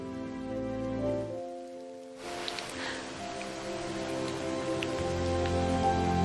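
Steady rain pours down for the whole stretch, a dense wash of drops pattering on surfaces, with a quieter, more muffled opening before the downpour swells fuller and closer around two seconds in.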